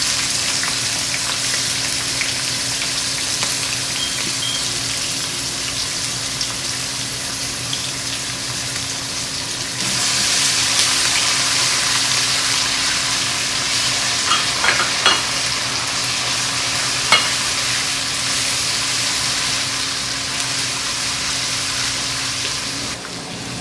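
Ginger paste and green chili frying in a pan give a continuous loud hiss, with stirring scrapes and a few clinks, and the sizzle grows sharper partway through.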